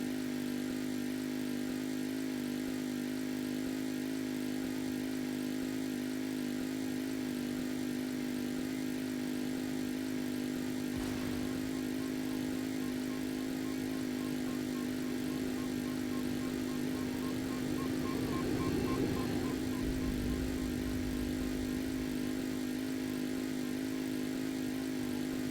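Stallion car engine in the video game A Dusty Trip, a steady mid-pitched idle hum running continuously throughout, with a brief swell in revs near the end.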